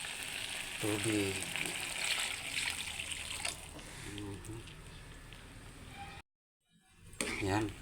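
Water bubbling and hissing in a pot for misua with sardines, a steady simmering seethe under intermittent talk, cutting to near silence briefly before resuming.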